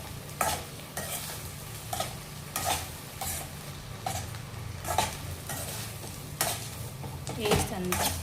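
Ridge gourd being stirred in a pan, with steady scraping strokes of a spoon about every second over a constant low sizzle and faint kitchen hum.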